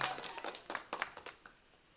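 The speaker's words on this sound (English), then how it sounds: "The applause is here." Scattered claps and taps from a small group in a live stream, a short burst of applause that thins out and fades within two seconds.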